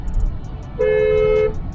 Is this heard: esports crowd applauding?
no